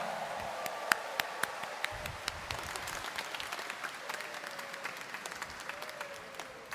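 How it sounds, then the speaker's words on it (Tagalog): A church congregation applauds during a homily at a Nazareno fiesta Mass, steady moderate clapping spread across the space with a few sharper claps standing out, with no voices over it. "itaas nga ang kamay at pumalakpak ng mas malakas"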